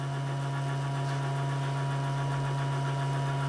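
An electric motor runs with a steady, loud electrical hum and a constant whine, unchanging throughout with no talking.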